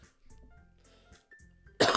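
A single sharp cough bursts out at the end, close and loud, after a quiet stretch of low background sound.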